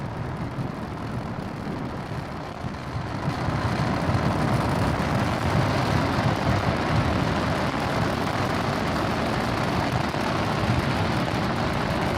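A SpaceX Falcon 9 rocket in flight gives off a broad, steady roar that swells after the first few seconds and then holds level, loud and continuous with no voices.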